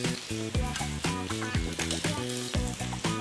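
Cumin seeds hiss and sizzle in hot oil with garlic and slit green chilies, a steady frying crackle under a loud repeating musical backing that drowns much of the texture.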